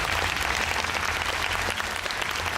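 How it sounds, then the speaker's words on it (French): An audience applauds at a Marvel conference at Disneyland Paris, a dense, steady wash of clapping from a large crowd that continues throughout without a break. "On peut applaudir Brian pour sa présentation et son incursion de Marvel Kid Entertainment."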